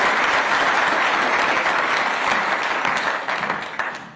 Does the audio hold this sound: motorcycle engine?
no